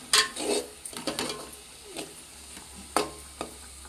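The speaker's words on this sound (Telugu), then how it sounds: "ఈ పేస్ట్ బ్రౌన్ కలర్ అయ్యే వరకు వేపుకోవాలండి" Onion paste frying and being stirred in a pan for a Konaseema-style bochu fish curry, with scraping stirs and soft crackling sizzle, louder bursts early and near three seconds, no talking.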